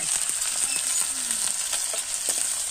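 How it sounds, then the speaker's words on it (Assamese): Onions frying in hot oil in a wok, a steady bright sizzle up close with scattered pops and light stirring scrapes, no talking. "এতিয়া হৈ গ'ল পুৰা তেল গৰম এতিয়া দিম পিয়াজ"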